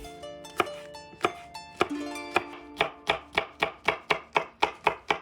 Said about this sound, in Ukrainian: Беремо солодкий перець, прибираємо насіння і нарізаємо смужками.